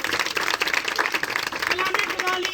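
Crowd applause at an evangelical Christian gathering, dense steady clapping throughout with voices over and mixed into it, close and fairly loud.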